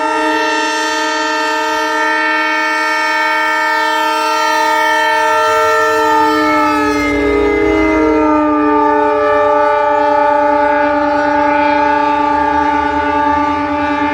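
A loud, sustained horn from a high-speed train on a trial run sounds close by at a station, its pitch dipping midway as the train passes, with a low rumble of rolling cars underneath.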